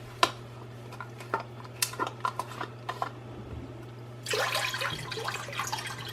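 Vegetable broth is poured into a soup pot for Portuguese caldo verde. A few light clinks come first, then a short, soft splashing gush of liquid, quiet over a constant background hum.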